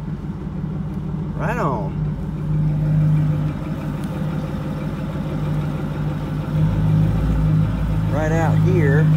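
A farm truck in four-wheel drive pulling away as the clutch is eased out, a loud low engine drone that rises as it takes load, with someone talking briefly over it.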